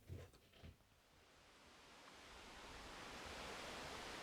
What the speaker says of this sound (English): now I'm stood next to a bubbling stream. You can probably hear it in the background